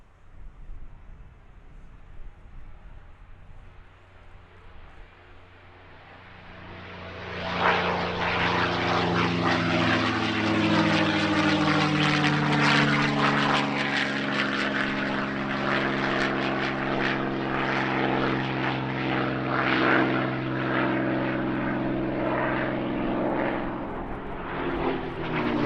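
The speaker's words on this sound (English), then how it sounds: "Now the first of today's heavy warbirds, the Norwegian Spitfire Foundation's P-51D Mustang" A P-51D Mustang warbird makes a flying display pass at the Duxford airshow; its piston engine and propeller roar build from a distant drone into a loud, sustained pass overhead, alone without voices.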